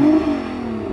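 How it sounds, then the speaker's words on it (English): A 1300 hp Nissan GT-R NISMO engine revs loudly up close, the roar strongest at the start, then settling into a sustained, slightly lower drone. "Hey Jürgen, go on, rev up your car."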